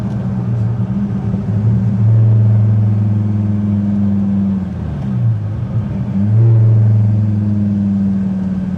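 1999 Dodge Viper GTS ACR Edition driving, its engine a deep steady rumble heard from inside the car, with mild rises in revs and no talk.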